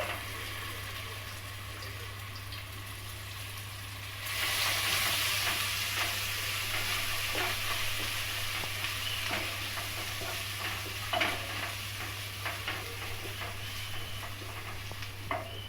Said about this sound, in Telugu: ఇప్పుడు మిక్సీ పట్టి మనం పెట్టుకున్నాం కదా పేస్ట్, ఆనియన్ పేస్ట్, అది వేసుకోవాలి తాలింపులోకి